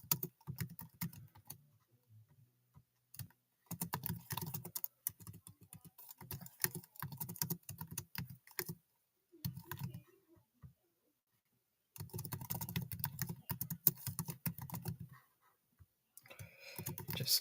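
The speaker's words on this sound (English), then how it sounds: "Just typing in the poll." Typing on a computer keyboard in bursts of rapid, fairly loud clicks, broken by short pauses and a longer silent gap, heard up close with no talking.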